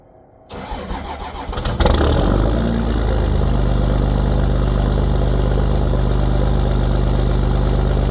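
A Duramax diesel truck engine cranks briefly, catches with a rising roar, then settles into a loud, steady, rumbling cold idle with a knocking diesel clatter.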